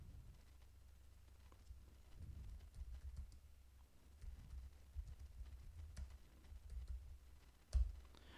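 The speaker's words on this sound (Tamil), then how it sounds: "நான் இங்கே ஹலோ அவாரியூன்னு டைப் பண்ணியிருக்கேன்." Fingers type on a computer keyboard in quiet, irregular runs of soft clicks and taps, with one louder key strike near the end.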